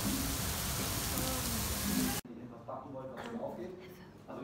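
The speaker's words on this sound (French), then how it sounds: "il pleut trop meuf" Heavy rain hisses loud and dense outdoors for about two seconds before a sudden cut to a quieter indoor scene with faint voices and background noise.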